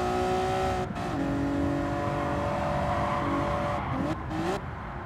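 Gran Turismo 7 car sliding under the handbrake through Suzuka's hairpin, a steady engine drone with tire squeal bending in pitch near the end, fairly loud and continuous with no talk.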